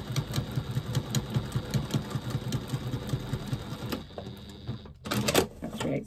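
A sewing machine stitches across a seam in a steady, fast mechanical rhythm for about four seconds, then slows, pauses briefly, and ends with a few louder clattering bursts.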